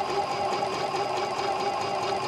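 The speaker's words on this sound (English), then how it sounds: "with this machine, I can sew" A Janome Continental M7 sewing machine stitching fabric, a steady close whirring drone with a rapid even needle rhythm, continuous and fairly loud with no speech.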